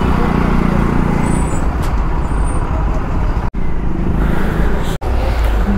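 Dense highway traffic at dawn, a loud continuous roar of engines and tyres with a constant rumble throughout, heard close while riding among vehicles.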